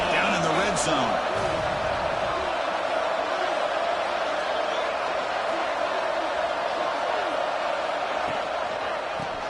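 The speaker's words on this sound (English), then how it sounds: "the crowd coming to life here, trying to help this defense down in the red zone" A stadium crowd at a college football game between USC and Oregon roars as a dense, steady wall of noise while the defense is in the red zone, with commentary voices over it.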